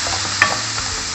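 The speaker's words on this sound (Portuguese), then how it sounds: "Agora eu vou colocar a colher de óleo, a cebola" Onion frying in a spoonful of oil, a steady broadband hiss with one sharp crackle or pop near the start and quieter spatters after it, close and alone.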